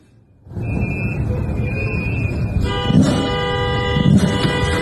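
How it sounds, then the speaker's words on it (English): Car horns honk at a street protest, first one long sustained tone, then several horns blaring together in overlapping bursts over a steady background of traffic and crowd noise. "So we're still honking."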